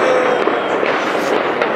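Fireworks go off outside on New Year's Eve in a residential neighborhood, a dense, loud, continuous crackling burst close by with no pauses.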